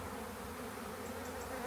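A swarm of honey bees gives a steady, dense buzzing hum that holds even and continuous throughout, with no voices.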